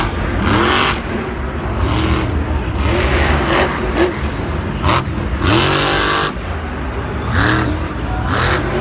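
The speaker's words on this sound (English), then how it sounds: "Truck sounds to be sputtering a little bit too" A monster truck at a Monster Jam arena show in Glendale, its engine loud and close, sputtering and revving in repeated surges with rough, uneven bursts over arena noise.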